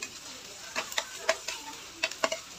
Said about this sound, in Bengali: পেঁয়াজ কুচিগুলোকে আমি লালচে করে ভেজে নিচ্ছি